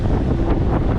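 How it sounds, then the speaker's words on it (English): Strong wind of about 19 knots buffeting a sailboat under way, a loud, continuous roar of gusts hitting the microphone with some water wash underneath and no voices. "We're seeing about 19 knots of wind right now"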